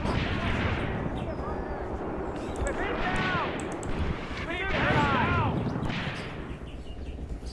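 Rifle and machine-gun fire rattles through a World War II tank battle in Tank Warfare: Tunisia 1943, steady crackling shots and distant booms under someone speaking, with bright chirping tones mixed in.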